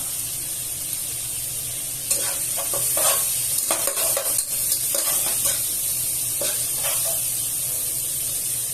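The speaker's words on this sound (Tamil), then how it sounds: "நல்லா ஒரு கோல்டன் ப்ரௌன் கலர் வரைக்கும் நம்ம சாத்தே பண்ணிக்கலாம்" Curry leaves and onions sizzle steadily while frying in a pan for Karaikudi chicken kuzhambu, a constant hiss with scattered crackles and stirring scrapes, close and moderately loud, with no talking.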